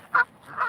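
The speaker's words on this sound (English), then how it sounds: "That duck is chasing the other one, bro." Ducks outdoors, two loud honking quacks close by as one duck chases another, with a short quiet gap between them.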